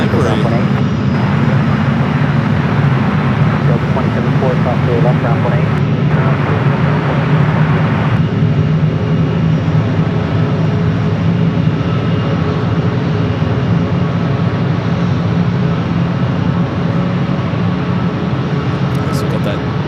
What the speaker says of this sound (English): So we got that 777 heading to Newark.